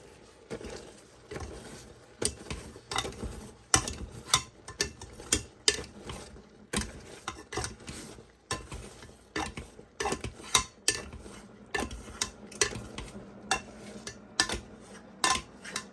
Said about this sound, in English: when the peaches start to release their juices, mash them